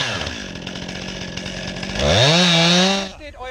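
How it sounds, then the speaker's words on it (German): Chainsaw cutting into a tree trunk from the opposite side during tree felling, engine idling with a rough rhythmic pulse before revving sharply into a loud, high whine as it bites, then dropping off. "Wir sägen dann von der anderen Seite gleich nach."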